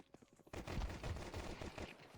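Automatic gunfire in a video game starts after a brief quiet lead-in and keeps going as a sustained rapid burst at moderate, somewhat muffled volume.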